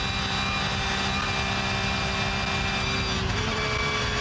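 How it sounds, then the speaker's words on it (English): A GT race car holds full throttle on a flat-out section of the Nürburgring, its engine a steady, loud, unbroken drone heard from the cockpit with no letup. "Let's just listen to the engine through Kesselchen and Klostertal, because this is flat."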